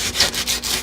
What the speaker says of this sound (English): So I just got some sandpaper here on a sanding block. This is 150 grit